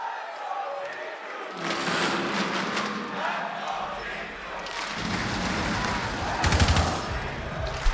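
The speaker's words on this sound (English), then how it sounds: "the Let's Go G2s come out from the crowd to try and enthuse them here in this round" An esports crowd at a Rainbow Six Siege match chants "Let's Go G2" beneath commentary and in-game gunfire. The rhythmic chant rises in bursts and then settles into steady crowd noise.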